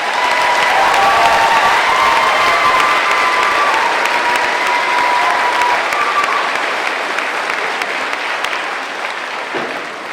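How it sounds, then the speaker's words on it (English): A graduation audience applauds the class at a high school ceremony, with steady, dense clapping from a large crowd that fills the whole stretch, loud and sustained before easing slightly toward the end. "One more round of applause for the class of 2020."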